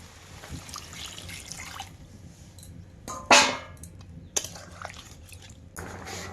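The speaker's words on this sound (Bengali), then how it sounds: "এবার কিন্তু জল দিয়ে দেবো।" Water pouring into a cooking pan of shrimp and vegetables that have been fried down and softened, heard as a single brief splash and gush in the middle, with quiet kitchen sounds before and after.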